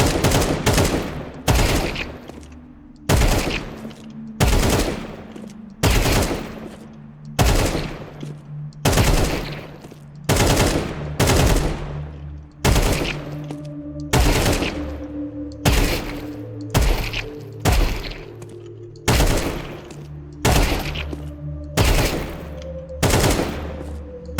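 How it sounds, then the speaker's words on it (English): Rapid gunfire in Counter-Strike 2 during counter-strafing practice: loud, sharp shots in short bursts and single taps, each separated by brief pauses, close and alone. "So it's just counter, strafe, stop, micro adjustment, shoot, strafe, stop, shoot, strafe, stop, shoot."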